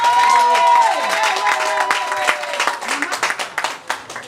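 An audience applauds a woman introduced as the secretary of an association, the broadband clapping mixed with sustained tones resembling music, then thinning into scattered, separate claps toward the end.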